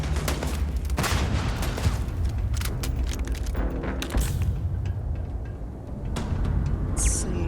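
Rapid bursts of gunfire from a turret in the sci-fi video game Starfield, a dense sustained fusillade with sharp repeated cracks and booms over a constant loud din, no voices over it.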